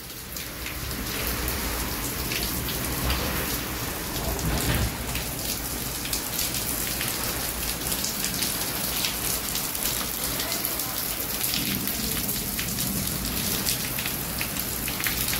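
Heavy rain pouring down steadily during a storm in a village courtyard, dense and continuous patter on surfaces throughout.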